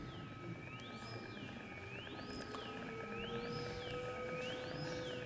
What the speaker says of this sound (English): the low tone you hear now is massive Jupiter